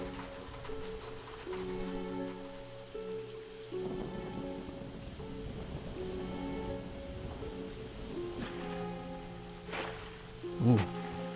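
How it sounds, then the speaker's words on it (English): Steady rainfall pours down at the opening of a Ghost Stories anime episode, a continuous close patter under sustained musical tones, with a faint rumble and a brief louder accent near the end. "The rain is falling down, as it always is when an episode starts."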